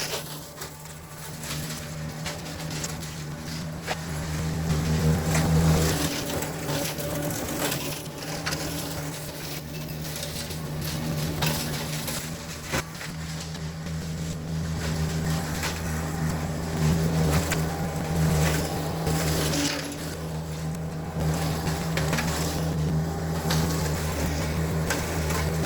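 Turbocharged Kubota BX compact tractor running a flail mower, a steady engine drone with low harmonic hum and constant mechanical rattle, fairly near and even throughout, no voices.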